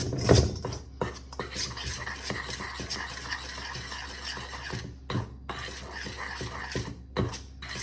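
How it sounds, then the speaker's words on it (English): Pecan bundt cake batter with salt stirred briefly in a bowl, giving close, soft scraping and rasping strokes that come in quick irregular passes with small clinks of the utensil, and no talk over it. "All right, we're going to give that a quick stir."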